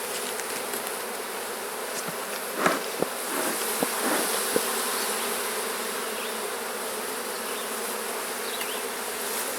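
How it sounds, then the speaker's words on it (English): Steady buzzing of many honey bees in an opened hive full of bees, a dense hum with a few brief clicks and knocks near the start. "Also full of bees."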